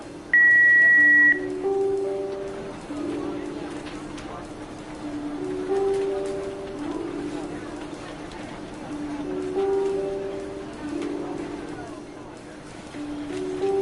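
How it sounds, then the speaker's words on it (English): Answering machine beep in a Jackbox party video game: a short, clear electronic tone near the start stands alone, followed by light background music with soft repeating tones. "Please leave a message at the beep"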